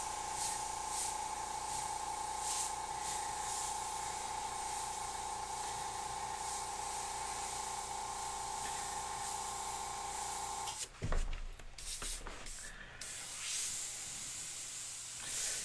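An airbrush hisses steadily while spraying paint onto a skull design, a faint continuous spray that stops abruptly partway, followed by brief clatter, then resumes.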